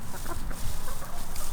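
Backyard chickens cluck softly inside their coop, a close, brief run of low, murmuring clucks.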